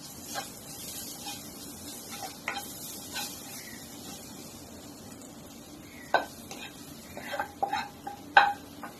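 Spices fry quietly in a pan for an egg rice dish, giving a soft, steady sizzle broken by scattered clinks and scrapes of a stirring spoon, several sharper near the end.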